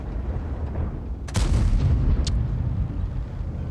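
A heavy tank cannon in World of Tanks goes off once with a loud boom and a rumbling tail, and a sharper second crack follows shortly after, set against a low, steady engine drone.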